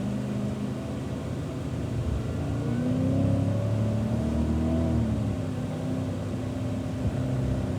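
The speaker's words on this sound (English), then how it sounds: "On some throttle going through turn 2." A Cadillac CTS-V engine pulls on throttle through a turn at Circuit of the Americas, a steady droning roar with a slowly rising then settling pitch, heard from inside the car with no talk.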